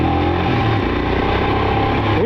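A Royal Enfield motorcycle in first gear revs around 2000 RPM, its thumping engine loud and close with a steady beat before pitch climbs in a quick throttle blip at the end.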